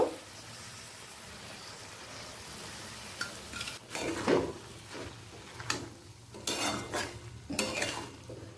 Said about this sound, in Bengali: কাবলি ছোলা থেকে জলটা ছেঁকে কিমার সাথে দু থেকে তিন মিনিট কষিয়ে নেব